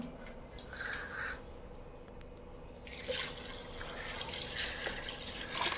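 Water pours into a pot of rice with a soft, steady splashing rush that starts partway through, quiet and close, with no talking.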